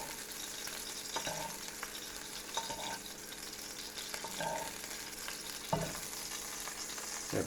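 Bacon braciole stuffed with cheese, breadcrumbs and herbs sizzles steadily in a pan of butter, with a few soft clinks and scrapes of basting breaking through the continuous frying hiss.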